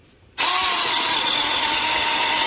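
Cordless 6-inch handheld mini chainsaw cutting through a fallen tree branch, starting abruptly after a brief quiet moment, then a steady loud high-pitched motor whine with cutting noise that holds without a break.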